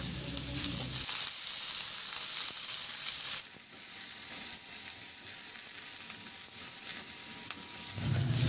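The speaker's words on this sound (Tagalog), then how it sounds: "At saka ko na igisa yung bawang at sibuyas." Garlic, onion and pork sautéing in a hot pan, a constant loud hiss of frying with occasional stirring scrapes and brief bumps at the start and end.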